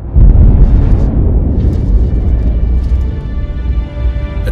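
A loud, sustained explosion in a French-dubbed superhero film, a deep booming roar that rumbles on for several seconds before slowly thinning out, with no voices over it.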